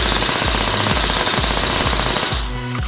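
A P90 submachine gun fired one-handed in the H3VR virtual reality game roars in a continuous, rapid, loud automatic burst that stops near the end, with no voices.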